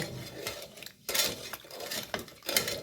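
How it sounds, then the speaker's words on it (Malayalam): Sugar and yeast stirred together in a container for homemade pineapple wine, heard as a run of close clinking and scraping strokes of a utensil against the vessel, alone without talk. "അതൊന്ന് നന്നായിട്ടൊന്ന് ഇളക്കിയിട്ട് വരട്ടെ"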